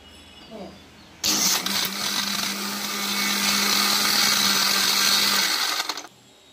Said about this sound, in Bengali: ব্লেন্ড করা হয়ে গেল।